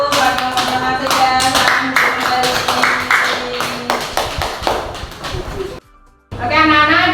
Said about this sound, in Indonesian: kita beri tepuk tangan dulu buat kelompoknya Mas Ega